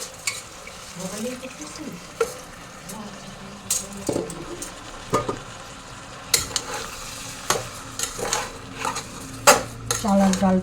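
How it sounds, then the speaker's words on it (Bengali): Rice and lentils are lightly fried in a pan with a soft sizzle, broken by repeated sharp scrapes and knocks of a spoon stirring against the metal. A voice talks now and then. "চাল আর ডালটা একটু হালকা ভেজে নেব।"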